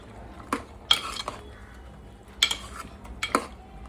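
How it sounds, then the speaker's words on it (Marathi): A spoon stirs spice paste and salt into food in a pot, giving three sharp metallic clinks and scrapes spaced about a second apart over a quiet background. "आता हे मिक्स करून घ्यायचं आहे"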